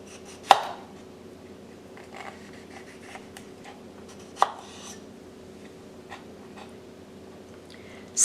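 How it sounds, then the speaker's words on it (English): A knife slices a potato lengthwise on a cutting board, giving a few sharp isolated cuts spaced several seconds apart over faint background rustling. "Cut the potato into slices lengthwise about 1/2 inch thick."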